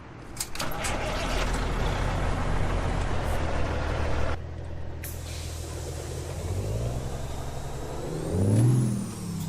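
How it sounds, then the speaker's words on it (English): A Peterbilt 359 flat-top truck in American Truck Simulator pulls out, its engine rumbling steadily with a hiss of air brakes, then revving up and rising in pitch as it accelerates, close and alone without speech. "we'll just pull our truck out"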